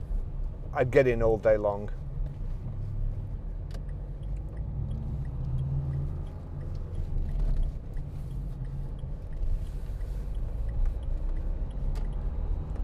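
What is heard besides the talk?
engine of a 1968 Ford Mustang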